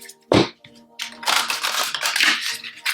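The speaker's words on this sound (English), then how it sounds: "All right, last shuffle." Tarot cards being shuffled, quick crisp riffling bursts with short pauses between them, close and fairly quiet.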